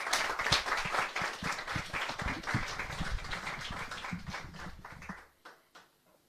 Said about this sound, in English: can we give our Secretary-General a round of applause?